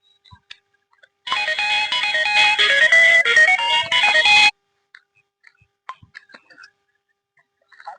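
A mobile phone ringtone plays a bright melodic tune for about three seconds, close and clear, then cuts off, leaving faint scattered noises.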